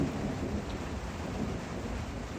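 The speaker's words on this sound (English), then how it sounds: "got a good old summer storm happening in spring" Steady rain from a summer thunderstorm pours continuously with a low rumble of thunder underneath, close and fairly loud throughout, with no voices.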